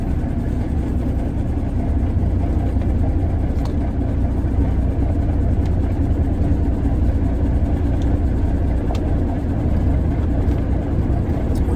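A 1983 Kenworth K100 cabover truck pulling away in first gear at night, its engine a steady, loud, low droning rumble that runs unbroken from start to finish, with no talking.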